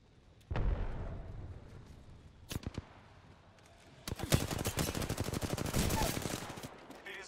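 Gunfire aimed at the player in a video game: one heavy shot, then a short pair of cracks, then a dense loud rattle of rapid automatic fire lasting several seconds, with no voices.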